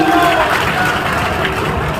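Applause from a large outdoor political rally crowd, a dense continuous wash of clapping and crowd noise filling the whole stretch at steady loudness.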